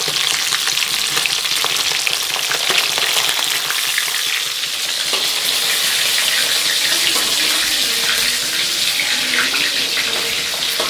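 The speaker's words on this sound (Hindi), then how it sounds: "और ये मछली हो गया है फ्राई यहाँ पे।" Fish sizzling and frying steadily in a pan, a loud close crackle that holds throughout with no one talking.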